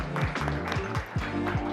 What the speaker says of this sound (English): Everyone, let's give him a warm round of applause.